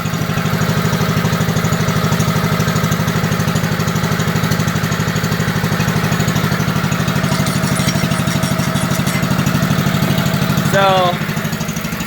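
A 1964 Lincoln Weldanpower 150 welder generator engine idles steadily and loud, with an even low chugging pulse that runs the whole time, and someone speaks briefly over it near the end.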